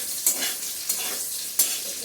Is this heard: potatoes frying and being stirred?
yes